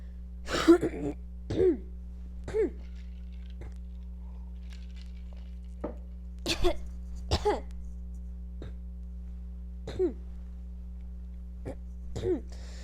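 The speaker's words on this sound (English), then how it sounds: "Sorry, I could not clear my throat." A series of separate coughs and throat clearings, about ten short bursts spread irregularly over the stretch, close and moderately loud against a steady low hum.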